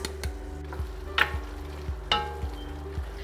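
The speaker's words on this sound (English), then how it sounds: "Now to deglaze the pan and get up some of these great little brown bits, we're going to add in a ½ cup of red wine." Red wine poured into a hot pan holding sausage drippings for a stuffing, making a steady sizzle with a few bursts of hissing and light periodic ticks, no voices.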